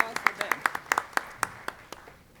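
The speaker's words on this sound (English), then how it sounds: "A big round of applause for them." Audience at a ceremony for International Education Week gives a short burst of applause, separate crisp claps close by that thin out and fade over a couple of seconds.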